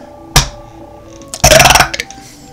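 A video game player burps into the microphone: a short sharp onset, then a loud, rough, drawn-out belch about a second later, close and alone.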